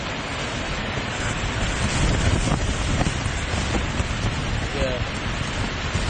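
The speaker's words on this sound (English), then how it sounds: "it could be about 50 mph winds, gusts" Strong wind gusts roar through the trees at a winter wild camp in the Lake District fells, a loud, continuous rushing noise that swells and eases slightly, with a brief voice barely audible beneath it.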